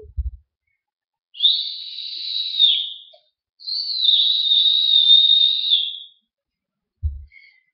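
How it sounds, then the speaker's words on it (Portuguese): Loud human whistling in two long sustained high tones, each lasting about two seconds and separated by a short gap, with no other sound around them. "Eu vou assobiar muito alto"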